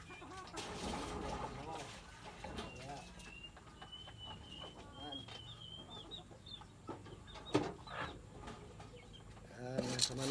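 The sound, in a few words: chickens clucking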